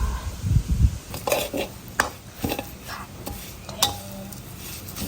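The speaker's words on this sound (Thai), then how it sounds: "ตักใส่ขวดกันเลย ตักใส่กระับกันเลยค่ะ" Roasted Thai chili paste is spooned into a jar. A metal spoon scrapes and taps against the container in irregular clinks and knocks, close and fairly loud, with a soft low thud near the start.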